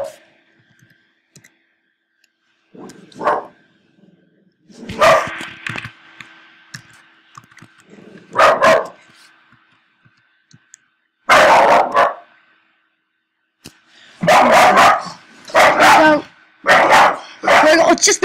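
A dog barks in loud, repeated bursts at a mail carrier, spaced bursts with quiet gaps between, then a fast cluster near the end, while a person talks nearby.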